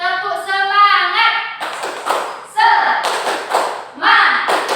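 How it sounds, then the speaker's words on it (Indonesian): Classroom of students doing a rhythmic spirit clap, sharp hand claps in quick patterned bursts mixed with loud chanted voices, close and lively. "Tepuk semangat."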